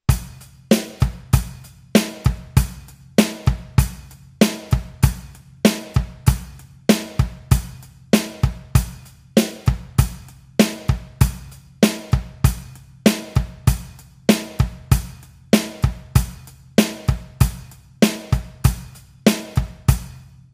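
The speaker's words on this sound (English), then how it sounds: "With the hands, eighth notes, snare on 2 and 4, sounds like this." A drum kit plays a steady eighth-note beat with the hands, snare cracking on beats 2 and 4 over a tight repeating hi-hat and kick pattern, looping evenly and clearly for about twenty seconds with no talking.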